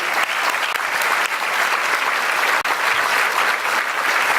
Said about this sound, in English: let's make sure that we close out this with a great gratitude round of applause to our leadership circle and every one of our member partners